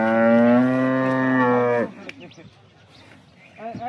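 A cow at a livestock sale in Vinchhiya taluka, Rajkot district, lets out one long, loud, close moo lasting nearly two seconds, followed by quieter shuffling and a brief second call at the end.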